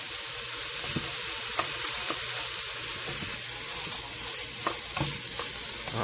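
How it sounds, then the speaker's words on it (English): Ground turkey sizzles and fries in a pan, a constant loud hiss of crackling fat with occasional scraping taps from stirring, close by and without talk. "1 pound of ground turkey. I'm gonna let that kind of crisp up a little bit."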